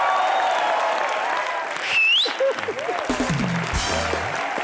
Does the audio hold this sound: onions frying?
no